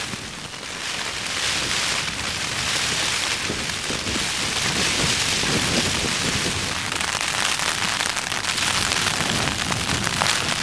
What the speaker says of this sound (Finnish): tuolla ei todellakaan videokamera käy tuossa sateessa